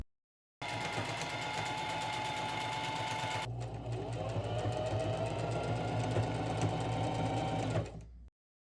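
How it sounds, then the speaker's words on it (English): A sewing machine runs continuously, stitching patchwork bucket hat panels right sides together in a steady close whir that shifts pitch partway through, then stops, with no talk. "now we can place both those panels right sides together and sew the ends and press."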